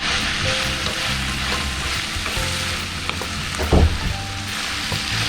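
Onions sauté with salt in a pan for a Kerala-style tapioca biryani. A steady, close sizzle runs throughout, with a brief stirring scrape partway through and no talking.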